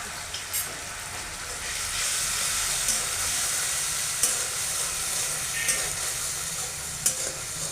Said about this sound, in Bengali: পোস্ত দিয়ে লবণ আর হলুদ দিয়ে মশলাটা খুব ভালো করে কষিয়ে নেব।